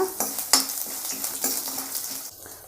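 Onion frying in oil in a pan for a ridge gourd milk curry, a steady close sizzle broken by several sharp scrapes and knocks of a spoon stirring against the metal.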